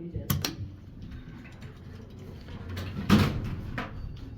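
Otis traction elevator doors slide along their track in a building at 1235 Franklin Ave, Garden City, giving two loud rattling bursts, one near the start and one louder near the end, over a steady low mechanical rumble.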